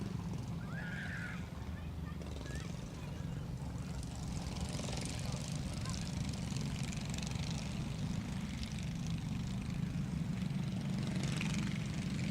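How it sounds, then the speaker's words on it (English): Engines of 9 horsepower sprint race cars roar together on the Grand Bend Speedway short track during a 25-lap feature, a dense, continuous droning rumble that stays loud throughout. "We're racing with the 9 horsepower sprints."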